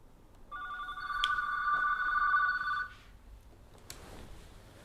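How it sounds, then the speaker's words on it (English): A telephone rings in a hotel room, giving one long, bright electronic trill that lasts a couple of seconds over quiet room tone, followed by a clatter as the handset is picked up. "They call me every day, and let's see how this phone call goes."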